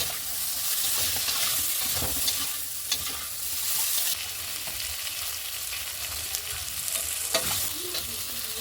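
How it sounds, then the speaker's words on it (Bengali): Vegetables fry with red chilli powder in hot oil for a fish curry, giving a loud continuous sizzle with repeated scraping stirs of a spatula in the pan and no talking. "দিয়ে দেব লঙ্কা গুঁড়ো, এখন সবজিটাকে ভেজে নেব।"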